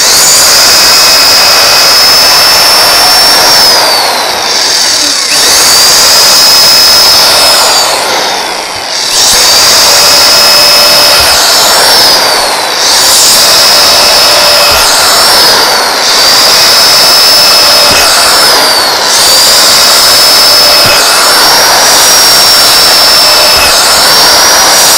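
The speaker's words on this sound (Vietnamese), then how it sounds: "test cho các bạn chỉ thấy cái khả năng khoan sắt khoan gỗ của con máy nha" A MASTER 1600W mixer drill runs continuously at a loud, high-pitched whine while boring through wood and iron, with its pitch dipping briefly under load several times and no talking over it.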